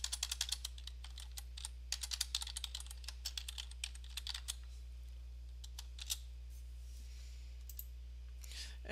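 Typing on a computer keyboard: a run of quick, light key clicks, dense at first and thinning out toward the end, close and fairly quiet over a steady low hum, with no voices.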